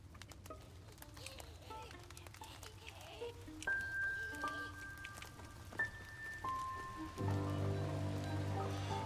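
Steady rain in the video game The Midnight Walk patters in the background with scattered droplet taps, while musical tones and chimes ring out over it, growing fuller near the end.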